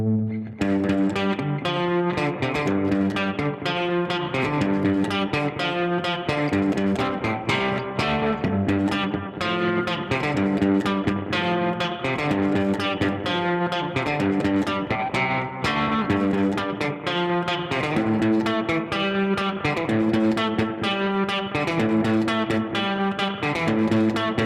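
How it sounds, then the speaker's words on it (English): Music played through a tremolo reverb preset on a podcast mixer, with loud, dense tones that keep a steady pulsing rhythm and a washed, echoing tail throughout, and no voices. "And tremolo reverb."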